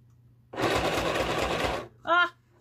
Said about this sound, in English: and now I'm just going to seal it up by sewing the top shut.